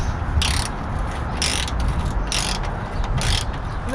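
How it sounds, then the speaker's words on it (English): A ratchet clicks in four quick bursts while undoing a rusty 10mm bolt on a Nissan Micra K10 during a door change, close and clear over a steady background rumble. "undo that bolt, which looks a little bit rusty. Will the rusty 10mm come undone?"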